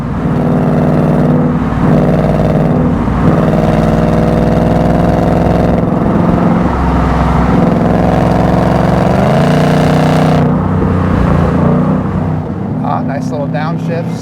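A 2024 Ford Mustang V8 rumbles and revs on a road drive, with pitch rising and dropping through several downshifts, loud and close from inside the car, while a person talks over it.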